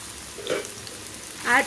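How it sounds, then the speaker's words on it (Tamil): Long ginger slices dropped into hot oil for pepper chicken, a soft sizzle with brief louder hisses and a stirring scrape near the end, close by and fairly quiet. "இப்போ இதில் வந்து ஃபஸ்ட்டு வந்து ஜிஞ்சர் ஃப்ரை பண்ணிடலாம்"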